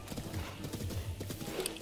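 A horse's hooves clip-clop at a steady trot in The Legend of Zelda: Breath of the Wild, with continuous rhythmic hoof beats over game music and ambience.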